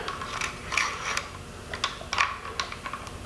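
Metallic clicks and sliding clatter as a recoil spring is fitted into a SAM 7 AK rifle, a close run of short mechanical snaps and scrapes with brief pauses, no talk.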